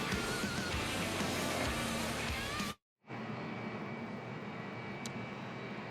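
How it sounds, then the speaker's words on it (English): Jet dryers drying the track at Kentucky Speedway during a 2013 NASCAR race break roar steadily and loudly, like a jet engine. The sound cuts out briefly partway through, then resumes just as strongly. "in the background you probably hear the sound of the jet dryers"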